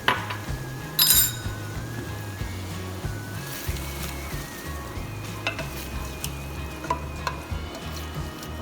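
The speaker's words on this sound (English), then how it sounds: "Let's saute this for a little minute." Sweet corn sauteing in oil in a pan, a steady low sizzle under repeated clinking and scraping from stirring, with occasional sharper metallic taps.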